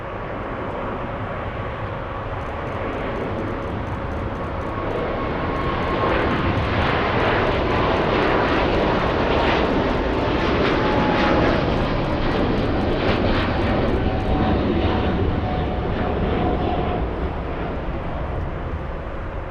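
Airliner on its takeoff roll at LAX, bound for Hong Kong: a loud, sustained jet engine roar that builds and holds, with a rising whine running through it.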